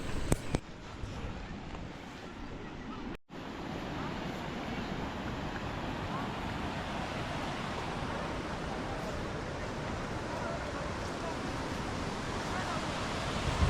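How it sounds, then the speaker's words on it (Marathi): Dhangar waterfall near Badlapur pours down from above, a steady, broad rushing roar of falling water that fills the scene, briefly cutting out once near the start. "पुढे धबधबा खाली पडतोय वरून"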